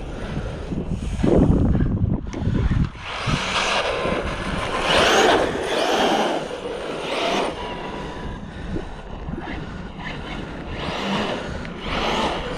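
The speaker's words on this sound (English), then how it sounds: "So much wheel spin there." A 4S-powered RC car spins its wheels on a bash outing, giving rising and falling whining revs and gritty scrabbling, loud and close with wind buffeting the microphone.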